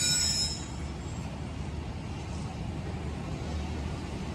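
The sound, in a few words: passenger train running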